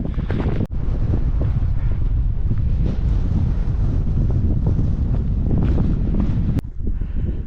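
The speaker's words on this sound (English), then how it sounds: "That wind has got us worn out." Strong wind gusting across open Pennines moorland, roaring continuously and loudly against the microphone, with a couple of sharp knocks as the buffeting briefly drops.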